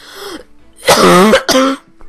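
A person coughs and clears their throat in a short, loud fit: a brief rasp first, then a long harsh burst of coughing, followed by a second shorter burst, heard up close with no talking.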